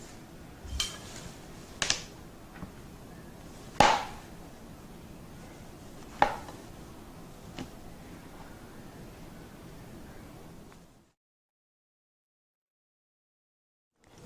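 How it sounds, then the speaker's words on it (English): A few scattered sharp knife taps against a cutting board as mushrooms are sliced, set against a quiet background hiss, then the sound stops entirely. "I'm going to cut the mushrooms"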